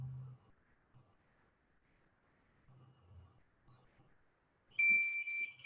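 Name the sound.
FEVO thermal fever screening device alarm beeps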